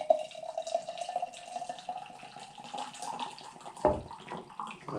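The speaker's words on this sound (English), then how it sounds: "so far the hard pour is going well" Nitro Pepsi draft cola hard-poured into a glass flows steadily with a soft fizzing rush, then pauses briefly before the flow resumes; close and fairly quiet.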